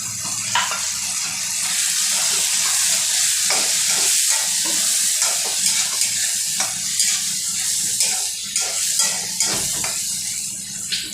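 Green peas and peanuts fry with garlic and ginger in a pan for Maharashtrian upma, making a loud, steady sizzle with frequent clinks and scrapes of a spoon against the pan.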